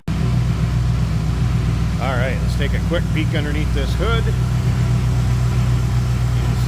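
1953 Ford F100 street rod engine idling with a deep, steady, throaty rumble throughout, while someone talks briefly over it in the middle.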